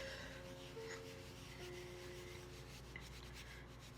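Faux fur pieces rubbed against each other in circles and back and forth, giving a steady, soft, continuous rasping brush that stays close and even throughout with no talking.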